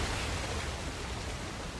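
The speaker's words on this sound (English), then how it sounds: "Another waterfall." Waterfall in the video game Uncharted: The Lost Legacy, a dense, steady broadband rush of falling water that holds constant throughout, with no voices over it.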